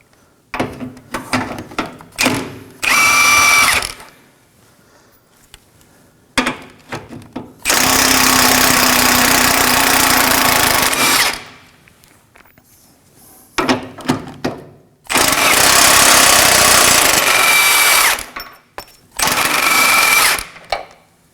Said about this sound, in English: We're going to be using a 19mm socket with an impact gun.